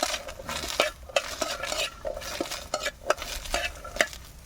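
Onion and garlic stirred in a pan, a spatula scraping and knocking against metal in uneven strokes over a soft sizzle, close and clear with no voices.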